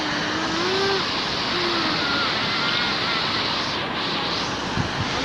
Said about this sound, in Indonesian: Ada air terjunnya.